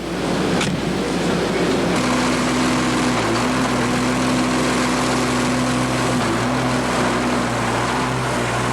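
A loud, steady Case IH 9130 tractor engine drones continuously at close range, a low rumbling hum with a mechanical whine over it.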